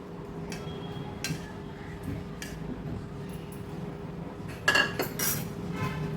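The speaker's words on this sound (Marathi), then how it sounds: "आपण ह्या बोलमध्ये हे साफ करून स्वच्छ धुतलेल्या कोलब्या काढून घेऊया" Cleaned, washed prawns for crispy prawns koliwada are dropped into a bowl with light clinks and taps of a utensil against the dish, soft and close, with one louder clatter near the end.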